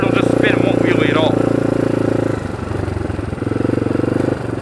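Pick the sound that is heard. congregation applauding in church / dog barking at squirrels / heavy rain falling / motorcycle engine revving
motorcycle engine revving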